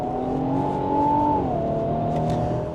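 A Nissan SUV carrying the GT-R engine pulls hard at full throttle, its engine drone climbing steadily in pitch before a quick, crisp upshift drops the revs and the rise resumes, heard from inside the cabin with no talking.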